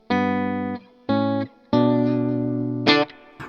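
A Rivolta Mondo Mondata electric guitar with its coil split engaged plays three sustained chords with a slightly driven, bright tone, each ringing then cut short, followed by a brief higher stab.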